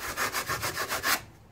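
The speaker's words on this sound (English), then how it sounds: "I'm just doing a couple last-minute sanding on this pumpkin." A foam Halloween pumpkin prop being sanded by hand with rough 80 grit sandpaper, six rhythmic back-and-forth rasping strokes, close and fairly loud, stopping abruptly at the end.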